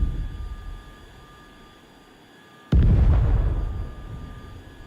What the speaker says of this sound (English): that's all my cluster bombs gone